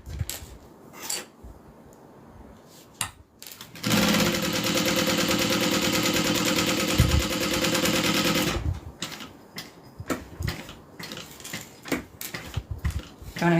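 A sewing machine runs a seam in one steady, loud, close burst of rapid mechanical stitching lasting several seconds, with fabric handling and clicks before and after.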